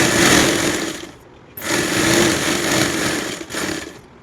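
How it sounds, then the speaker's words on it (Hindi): An electric sewing machine stitches fabric for a small child's coat with a steady, close, whirring motor hum, broken by two short pauses before it runs again. "मैं नीचे तक पूरा सिल दूँगी, ये भी।"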